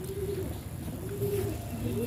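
Native pigeons feeding coo in low, rolling calls, several overlapping near at hand over a steady outdoor hum, with no talk.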